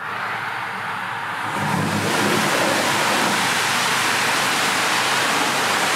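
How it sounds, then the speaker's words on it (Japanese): Falling water from a waterfall carries into a hot spring bath area in East Izu, a steady broadband rush that swells slightly after the first two seconds and then continues evenly with no voices. "風呂場から滝の音が聞こえてくるっていうのがいいですよね。"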